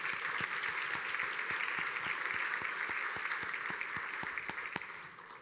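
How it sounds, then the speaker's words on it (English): Audience applause at an industry forecast event: a sustained, even wash of many hands clapping in a large room, with a few sharper individual claps standing out, fading slightly toward the end. "I'd like for all of you to join me in giving them all a big round of applause"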